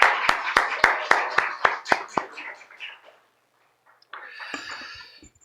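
During a Sunday church service, evenly spaced sharp claps ring out in a quick series that gradually fades, followed by a pause and then a speaking voice.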